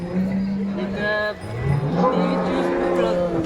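A cow at the Sangola cattle market moos loudly and close by, a long low bellow followed by another, over a busy outdoor background with engine noise and some voices.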